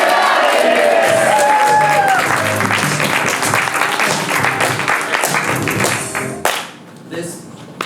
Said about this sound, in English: breaking into loud applause and yelling, "Get out of here!"